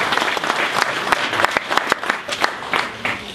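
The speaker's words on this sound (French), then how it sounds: "je vais vous demander de vous applaudir" Audience applause at a 2015 launch event in Morocco: a dense, steady wash of many hands clapping with sharp individual claps poking through, moderately loud and sustained throughout.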